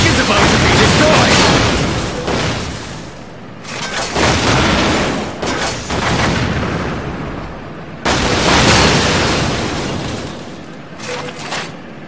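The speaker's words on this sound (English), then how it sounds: "The tank is about to be destroyed!" Loud, close explosions and booming blasts as a tank is destroyed in the tank-combat video game BattleLine: Steel Warfare, several heavy rumbling bursts in a row with short gaps between them.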